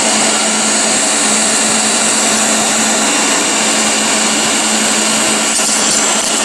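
A Leister hot air plastic welding tool blows continuously, a loud, steady high-pitched whoosh of heated air with a constant motor whine and no pauses.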